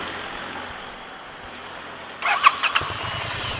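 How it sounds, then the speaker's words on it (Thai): A Triumph Bonneville T100 900cc motorcycle starts after a quiet idle hum, a short burst of starter whirr and a few sharp firing pulses that settle into a low, steady engine rumble. "เดี๋ยวสตาร์ทให้ฟังกันเลย"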